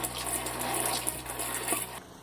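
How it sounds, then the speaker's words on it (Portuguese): Tap water runs in a steady gush over okra pods being washed one by one in a sink, a continuous close splashing that cuts off abruptly near the end. "depois de lavar os quiabos um a um com água corrente"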